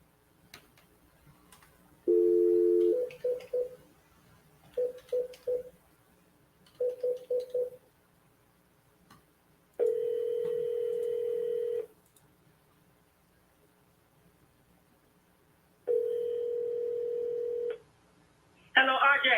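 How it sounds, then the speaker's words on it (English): A telephone line runs through an automated phone system: bursts of dialing tones in quick clusters, then long steady ringback tones with pauses between them, clear and up close, with faint talk underneath. "it's got to go through a stupid phone system."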